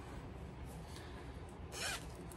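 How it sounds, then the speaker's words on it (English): A short zipper pull on a kendama bag, a quick rasping zip near the end over a low, steady background hum. "Got a little zipper."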